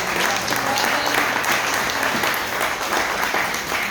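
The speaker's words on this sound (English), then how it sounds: "a big round of applause from Cynthia" Applause from an audience at an archaeology project talk, a dense steady roar of many hands lasting the whole stretch with faint voices mixed in.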